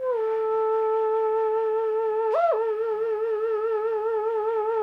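A pitch-flexed melodic sample in a jazz hip hop beat holds a sustained, wavering tone with a slow wobble. Midway it briefly jumps up in pitch before settling back, sounding weird and wavy with no voices.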